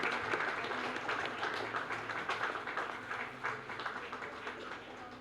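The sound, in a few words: audience applause for Bala Srinivas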